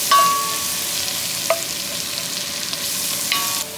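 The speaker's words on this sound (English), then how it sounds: "Just gonna stir it up so that they cook somewhat evenly." Leeks fry in a pan and are stirred, a steady close hiss of sizzling with a few soft scrapes and clinks of the utensil against the pan.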